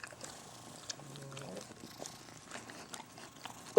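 A young kitten purring softly while nursing from a dog, a low steady rumble with small chewing and rustling sounds over quiet indoor background, no talking.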